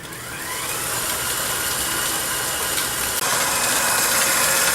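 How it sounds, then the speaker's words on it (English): Stand mixer with a whisk attachment beating buttercream, a steady loud motor whir with broad airy noise that holds constant throughout, no voices. "Turn the mixer down a little bit."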